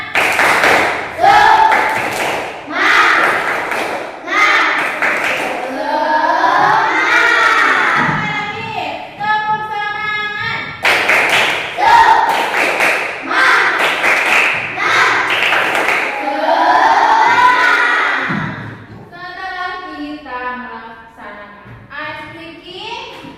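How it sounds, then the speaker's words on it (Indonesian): A school class does a patterned rhythmic clapping chant, bursts of loud claps alternating with voices chanting and calling together, repeated several times in close, lively sequence. "1, 2, 3, tepuk semangat."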